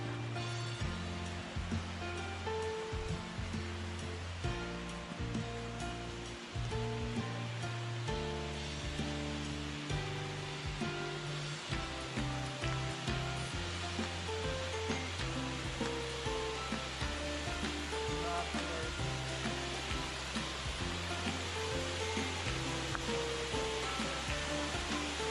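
Cataract Falls in the Smoky Mountains pours as a steady, full broadband rush of water, loud and continuous throughout, with a low tonal rumble and no talking.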